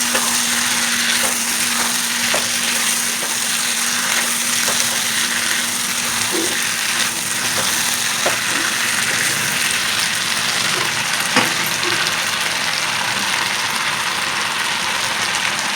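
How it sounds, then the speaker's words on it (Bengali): Chicken and spices sautéed in a kadai, dhaba style, make a loud, steady hissing sizzle throughout, with occasional faint clinks from stirring and a low constant hum beneath. "এবার মশলার সঙ্গে সব কিছু উপকরণ ভালো করে কষাবো"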